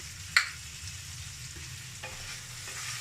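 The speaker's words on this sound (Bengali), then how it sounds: "নাড়াচাড়া করবো।" Bengali taro greens fry with salt and turmeric, a soft steady sizzle beneath one sharp clack of the spoon against the pan and a couple of quieter stirring scrapes.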